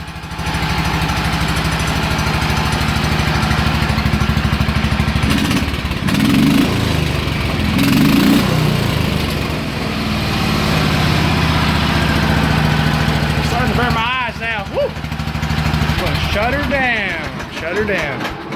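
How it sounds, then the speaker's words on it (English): A Cummins-powered John Deere 210 flat track mower engine runs steadily close by, a rough continuous drone with a couple of brief throttle swells, while a person talks over it. "This is the Cummins powered John Deere 210."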